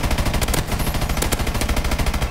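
Ameli light machine gun firing in Call of Duty: Advanced Warfare, a loud sustained automatic burst of rapid, evenly spaced shots with a brief pause early on, no speech.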